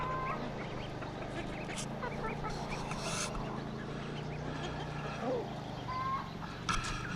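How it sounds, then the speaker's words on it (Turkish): Geese honk and chickens cluck at a distance over a steady background hum, with scattered calls throughout and faint voices. "Orada dışarıda köşede kazlarımız."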